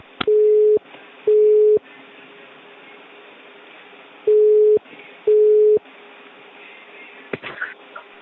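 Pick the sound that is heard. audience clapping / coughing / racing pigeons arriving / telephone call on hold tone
telephone call on hold tone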